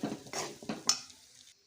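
Chicken fry being stirred in a pan after coriander powder and garam masala are added, with several close scraping and clinking strokes of a spoon against the pan and a faint sizzle trailing off.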